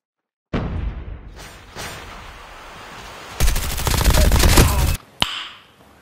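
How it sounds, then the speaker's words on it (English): Video game shotgun fire booms in loud bursts, with a dense barrage of rapid shots and several sharp single blasts, then trails off into quieter noise. "Shotgun here."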